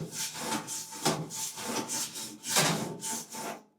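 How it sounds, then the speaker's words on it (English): A wand scrapes and scratches around inside a clothes dryer vent in rhythmic back-and-forth strokes, a close, raspy rubbing sound repeated about a dozen times without talk. "take your little wand, just kind of stick in there and just scratch it around"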